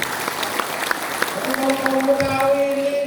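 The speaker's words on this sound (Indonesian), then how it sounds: "Tepuk tangan bakal kita kaum Betawi." Audience applause after a speech honouring Betawi heroes at a community gathering, a moderate steady patter of many hands with faint crowd murmur and a sustained tonal hum rising partway through.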